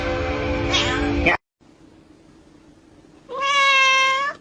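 A cat meows once, loud and close, after a moment of quiet; a voice imitates meowing just before it.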